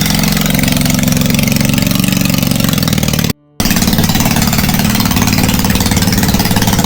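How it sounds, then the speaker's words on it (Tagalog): A small motorcycle engine runs steadily at a low, droning idle with a deep, boat-motor-like chug, loud and close, broken by a brief dropout midway. "Yung motor ni Papa parang pambot, parang pangdagat."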